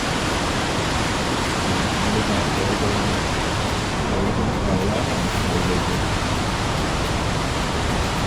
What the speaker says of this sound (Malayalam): ഇതിലുമാണ് വെള്ളം ഒഴുകി വെള്ളച്ചാട്ടം ആരംഭിക്കുന്നത്